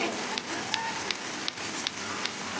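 Steady rain falls outdoors where children are bathing in it, a broad even hiss with faint periodic taps, and no talk.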